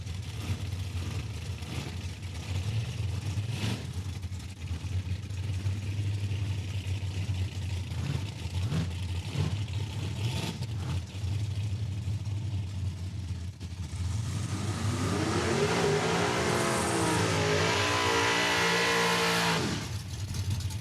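Drag racing cars at Saskatchewan International Raceway, among them a 2022 Mustang Mach 1, idle with a low rumble before one engine revs hard and climbs loudly, then cuts off.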